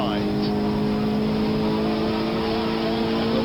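A race car engine in the Assetto Corsa racing game drones loud and sustained through a hot lap, with steady high revving tones. Excited commentary runs over the engine throughout.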